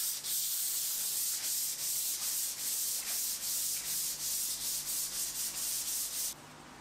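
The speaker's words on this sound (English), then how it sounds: "I went lightly over the bench with a 240" Fine 240-grit sandpaper rubs lightly over a hardwood Roubo-style workbench in steady back-and-forth strokes, a soft, even hiss with a regular rhythm and no talking.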